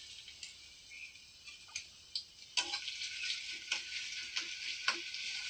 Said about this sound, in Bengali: রসুনটা দিয়ে দেবো।